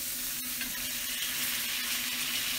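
Venison steaks searing in butter and oil in a hot pan give a steady, close sizzle and crackle with a faint low hum beneath, continuous and without talk.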